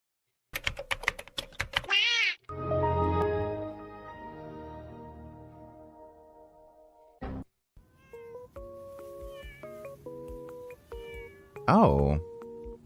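A cat meows several times, the calls standing out loud and close, with typing and other sounds scattered between them.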